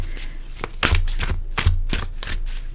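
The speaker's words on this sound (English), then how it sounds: "Okay, one more shuffle here." A deck of tarot cards being shuffled by hand, a series of quick riffling bursts and soft slaps at close range, irregular in rhythm and without voices.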